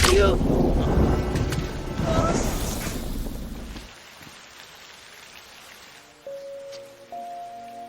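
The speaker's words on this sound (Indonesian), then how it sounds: "Di bawah air hujan dan petir yang menyambar-nyambar" Heavy rain pours steadily in a dramatized martial-arts story scene, loud and close for the first few seconds, then drops away to a faint patter while sustained musical tones come in.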